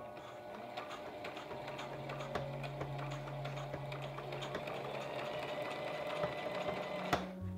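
A sewing machine stitches a pant leg hem in a fast, even mechanical chatter that runs continuously at moderate level, with a brief clunk near the end and no talking.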